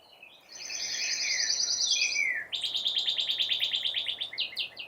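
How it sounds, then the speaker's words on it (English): A bird outside sings two close, bright phrases: a sustained buzzy trill, then a rapid series of repeated chirps, over a quiet background with no talking. "If you can hear the birds, just how peaceful it is outside right now."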